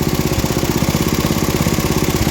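A vintage MTD ride-on mower engine runs loud and close with a steady rapid chugging pulse, held at high revs, with no voices.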